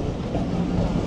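The Tungipara Express rolls along the rails, a steady, close rumble of wheels and carriage with faint rhythmic clatter, unbroken and without voices.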